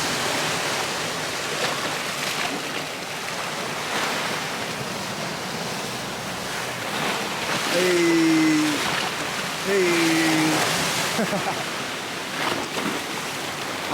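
Ocean surf rolls in as a steady broad wash close by, with someone briefly speaking and two short tonal sounds rising above the roar.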